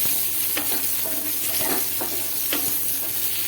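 Garlic and onion frying in a pan for white sauce pasta hiss continuously up close, with a few distinct scraping strokes from stirring breaking through the sizzle.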